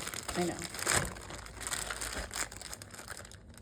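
Crinkly rustling of a plastic bag being handled close by, coming in uneven bursts with brief pauses.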